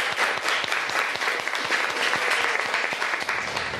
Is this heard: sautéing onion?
no